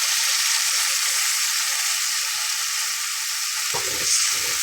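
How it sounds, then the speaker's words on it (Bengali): Chana dal sizzles steadily while frying in a pan, a close, continuous hiss with a stir scraping through near the end; no talking. "5 মিনিটের মতো নেড়ে চেড়ে আমি এখানে পানি দিয়ে নেব"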